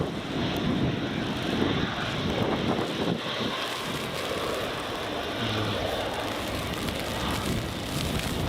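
A JetBlue airliner climbing away from runway 24 at Edinburgh Airport, a broad steady engine roar heard from a distance and mixed with gusty wind buffeting the microphone.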